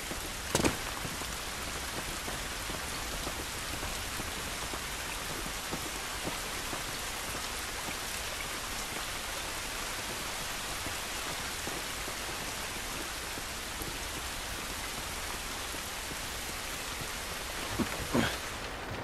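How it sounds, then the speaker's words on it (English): Steady heavy rain in The Last of Us Remastered pours without pause, a dense even hiss with a couple of sharper drops or thuds near the end. "This rain ain't gonna do us any good."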